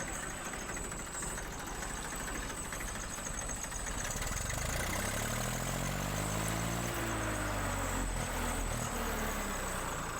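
A Massey Ferguson 35 standard tractor, a second-hand machine, idles with a steady low diesel chug, close and continuous, its pitch rising in a brief rev midway before settling back to a rough, knocking idle.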